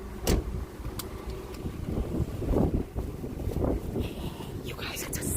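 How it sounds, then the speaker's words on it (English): Strong wind gusts roar over the microphone outdoors at night beside dumpsters, a steady rumbling buffet with louder surges, while people talk quietly underneath. "It is very windy."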